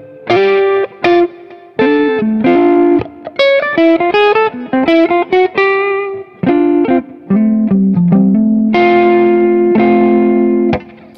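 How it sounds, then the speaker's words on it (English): A cheap electric guitar on its neck pickup plays clean chords and short riffs, ringing notes and strummed chords with brief gaps, loud and close with no talking. "test out some of the basic clean tones of this guitar"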